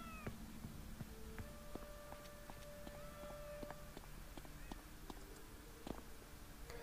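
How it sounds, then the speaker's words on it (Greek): Kittens meow in a video game, short high mews repeating over steady game background sound and music tones, fairly quiet throughout. "Να σας ζήσουνε τα γατάκια, κυρία Βαρώνη."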